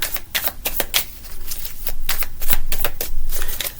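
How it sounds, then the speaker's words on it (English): Tarot cards are shuffled up close, a loud run of quick riffling bursts and flicks in an uneven rhythm, with no talking. "I'm gonna shuffle these a little bit"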